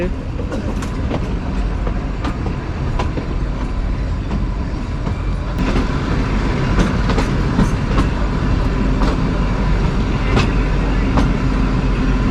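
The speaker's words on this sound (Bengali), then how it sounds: "এই যে কালকা স্টেশনে আমাদের এখন টয় ট্রেন ঢুকছে" The Kalka-Shimla narrow-gauge toy train pulling into Kalka railway station, heard from on board: a continuous loud rumble with rhythmic clickety-clack of wheels over rail joints and occasional sharp clanks.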